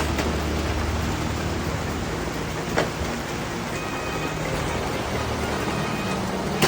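Light rain falls outdoors while tubeless tires are fitted to a Yamaha Nmax V2 scooter. It makes a steady, even hiss with a couple of faint knocks and no speech.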